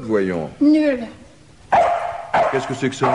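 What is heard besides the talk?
lost dog barking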